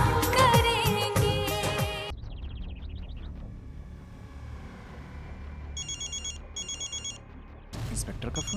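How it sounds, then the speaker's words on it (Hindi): An inspector's telephone rings in a Hindi film scene, the bright electronic trill arriving in two short repeated bursts after a swell of music fades into a quiet room. "इंस्पेक्टर का फोन।"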